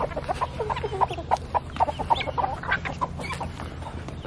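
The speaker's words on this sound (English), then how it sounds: "now it's time to catch the ducklings and gosling." Young ducklings and a gosling, caught and handled indoors, give a rapid string of high, anxious peeping calls close by over a low background hum.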